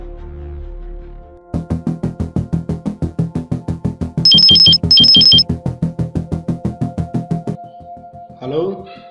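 A phone ringing with two short bursts of high electronic trills over a rapid rhythmic mechanical pulsing, followed by a brief rustle at the end.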